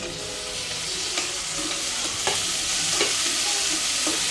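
Tomatoes going into onions already fried reddish for a dhaba-style paneer masala, with a loud, dense sizzle and intermittent spatula scrapes against the pan, close and continuous.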